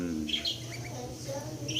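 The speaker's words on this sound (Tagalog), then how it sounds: "Ito ang aking alagang ibon na kakaktil." A pet cockatiel at home gives a few bright, short chirps over steady background noise, fairly close, while a person talks nearby.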